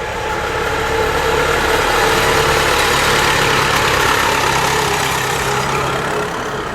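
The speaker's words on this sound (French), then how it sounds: "Oh, il y a un tracteur, là." A tractor's diesel engine idles close by at a farm with a steady, loud low rumble that stays even throughout, with no speech.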